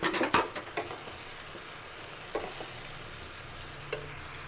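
Cooled cooked rice tipped into a hot pan and stir-fried, with an opening scrape and clatter of grains followed by a low, steady sizzle, close and alone.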